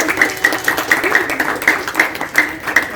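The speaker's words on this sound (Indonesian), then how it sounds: "Tepuk tangan dulu dong buat kamu" Students clap together after a small fire-safety simulation at a high school, a steady rhythmic beat of claps roughly twice per second, moderately close and continuous through the moment.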